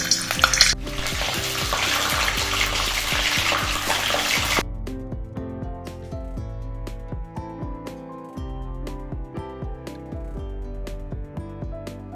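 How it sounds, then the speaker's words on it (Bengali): Pointed gourds sizzle loudly in mustard oil in a wok, a dense steady frying hiss for about four seconds that then gives way to music. "এবার আমি পটলগুলোকে ভেজে নেব"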